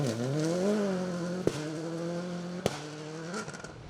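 An X-Works Subaru Impreza WRC rally car drives a special stage, its engine holding a steady rising and falling drone with two sharp pops from the exhaust, heard close and loud throughout.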